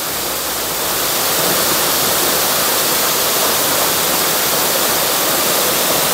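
Waterfall more than 50 metres high at Cantón El Zapote, Tejutepeque, Cabañas, El Salvador: a steady, loud, dense roar of falling water at the base of the fall, continuous and broadband with no voices.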